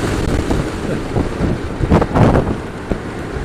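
Strong gusty wind buffets the microphone while cycling near the Golden Gate Bridge, a loud broadband rushing roar with sharper bursts as the gusts hit, and no talking.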